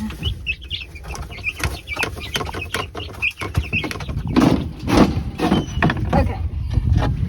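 Chicks and chickens cluck and peep around a coop at feeding time, with repeated short calls, rustling and clattering close by, and a voice speaking briefly.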